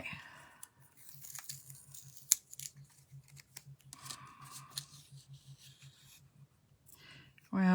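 Scissors snipping through paper during card-making with stamped floral designs, a quick run of rhythmic crisp cuts with small rustles and handling noises, close and moderately quiet.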